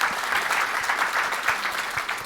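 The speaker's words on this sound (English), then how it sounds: "Round of applause" Short burst of audience applause at a rent-to-rent property masterclass, many hands clapping in a brisk, even patter at moderate volume, close and continuous.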